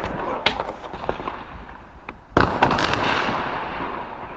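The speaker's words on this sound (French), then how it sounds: "moi j'appelle ça des pétards, mais c'est plutôt des minuscules explosions, mais ça fait beaucoup de bruit" Firecrackers pop outdoors in scattered sharp bangs, a few distant and one louder nearby, followed by crackling and lingering rumble.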